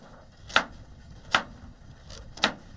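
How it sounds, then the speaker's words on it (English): Knife chopping carrots on a board while cooking outdoors at a bush campsite, four crisp, evenly spaced cuts about a second apart, close and clear over faint ambient background. "Got to cut the carrots."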